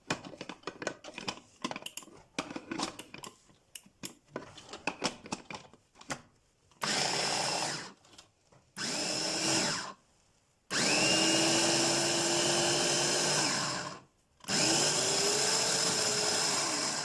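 A food processor grinds falafel mixture in loud, sustained whirring bursts separated by short pauses, after a stretch of scattered clicks and knocks.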